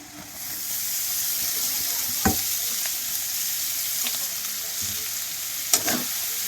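Chopped banana flower fries in a pan with a steady hiss and crackle, broken by a few sharp scrapes and knocks of a spoon stirring it. No one speaks.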